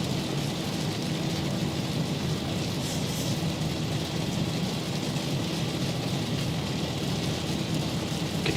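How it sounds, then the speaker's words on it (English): Steady broadband rain drums on the outside of a Boeing 737 at night, a dense continuous patter with a low rumbling undertone and no talking. "Can you hear the rain pelting the aircraft?"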